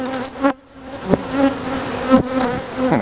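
Aggressive honeybees swarm close around a hive, their buzzing loud and dense and shifting in pitch as individual bees dart past near the ear.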